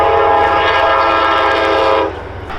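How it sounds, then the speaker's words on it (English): A train rumbles past with a loud, sustained horn blast that holds steady for about two seconds and then cuts off, leaving the fainter rolling sound of the cars. "I'm gonna try to catch a train."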